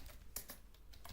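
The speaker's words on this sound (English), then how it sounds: "Nathan, I'm very slow at typing." Computer keyboard typing during a coding session: a handful of quick, close key taps in an irregular rhythm, with two louder strikes standing out over a faint steady background hum.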